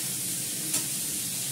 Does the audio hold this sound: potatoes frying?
yes